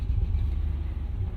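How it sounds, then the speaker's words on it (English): A Mercedes-Benz ML55 AMG engine idles with a rough, lumpy low rumble, its uneven pulses betraying a bad misfire, sounding close and continuous without any talk. "Oh, it's misfiring terribly."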